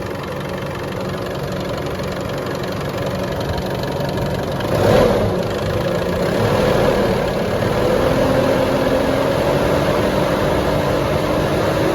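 A 2015 Isuzu MU-X with the 4JK1 diesel engine runs steadily near 2,000 RPM, a close, even mid-pitched drone with a slight rise in pitch and a brief bump midway.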